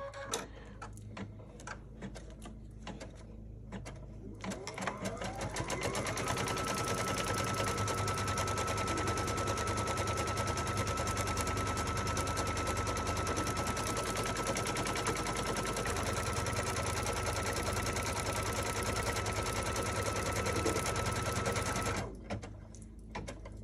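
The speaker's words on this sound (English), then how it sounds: "The first thing it's gonna do is it's gonna stitch on a placement line." Embroidery machine stitching a placement line for a quilted pillow block, a steady fast mechanical chatter of needle strokes running continuously for most of the stretch after a quiet start, close and fairly loud.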